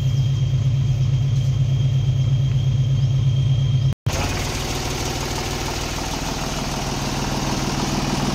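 A water pump engine running on a work site, pumping water away. It gives a loud, steady close rumble that drops out for an instant and then resumes slightly rougher.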